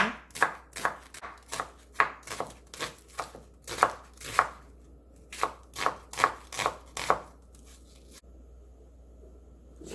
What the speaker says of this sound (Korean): 무 썰어줍니다. 양파 작은 거 하나 썰어주세요.